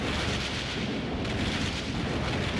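Thunderstorm in the Café Enchanté game: a dense, continuous roar of thunder and heavy rumble fills the whole moment at steady, loud volume with no voice.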